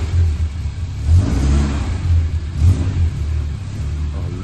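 A 1969 Series 1 Lancia Fulvia Rallye S classic car heading off on a road test, its mid-pitched engine revving in two or three swells as it accelerates away, fairly loud and close, with no talking.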